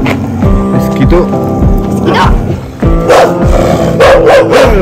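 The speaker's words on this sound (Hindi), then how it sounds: "ये कुत्ता है जो हाची को पसंद नहीं करता और काटता है" A dog barks repeatedly and loudly nearby in sharp bursts, while a person talks over the barking throughout.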